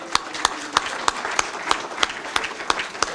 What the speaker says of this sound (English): Can we give Bowie a round of applause?